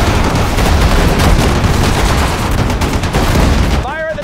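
Dense, continuous gunfire from infantry soldiers in the World War II strategy game Sudden Strike 4, set during Operation Overlord, crackling loud and steady throughout, with a brief whistling tone near the end.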